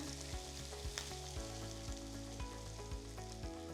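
Chopped onion and split green chillies frying in coconut oil in a pan, a close, steady sizzle with soft rhythmic stirring scrapes throughout.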